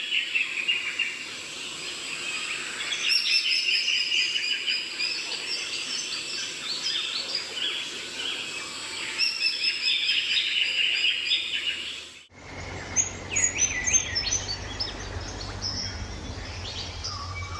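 A breeding pair of spangled drongos in eucalypt forest gives repeated bright, chattering calls that run almost continuously over a background hum of insects, with the sound shifting abruptly partway through.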